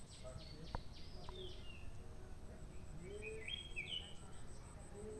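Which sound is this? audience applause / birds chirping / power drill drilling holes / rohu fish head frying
birds chirping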